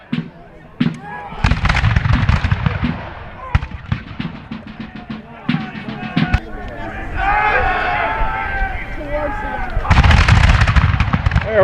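British musket volley in a Battle of Fort George video game, a series of sharp, loud gunshot cracks and booms with rumbling echo, scattered through the scene, with someone talking over the fire.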